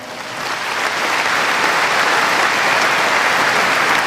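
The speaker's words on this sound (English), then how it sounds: "so please give them a round of applause" A tennis crowd at a Brisbane International men's singles final applauds sponsors, a dense, steady wash of clapping that swells in over the first second and holds loud and sustained without speech.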